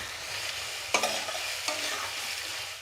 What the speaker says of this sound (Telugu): అన్నిటికంటే ఫస్ట్ ఎర్రగడ్డలు వేసుకోవాలి, మిరపకాయలు వేసుకోవాలి. ఇప్పుడు ఇదంతా బాగా ఎర్రగా వేయించుకోవాలి.